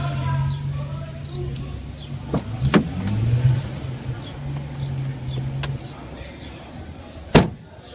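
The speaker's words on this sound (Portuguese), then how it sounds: "vou fechar aqui o carro" A car is being shut up, with a power window motor humming and a door slamming shut, plus a few thuds and clicks, while people talk nearby and a bird calls faintly.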